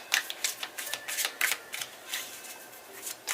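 A tarot deck shuffled up close, with sharp papery riffles and snaps coming in quick uneven bursts and no talking.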